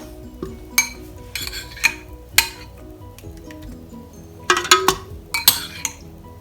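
Cut strawberries are dropped into a blender jar, giving scattered clinks and knocks against the container, several clustered sharp taps amid soft handling noise in a quiet kitchen.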